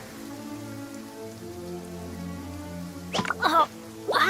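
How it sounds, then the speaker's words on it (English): Steady rain falls in the video game Genshin Impact, a constant soft hiss of drops throughout, with a few brief louder sounds near the end. "It always rains when I go on an adventure."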